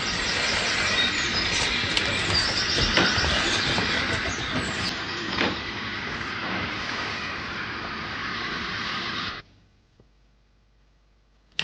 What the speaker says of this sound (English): Here's my train.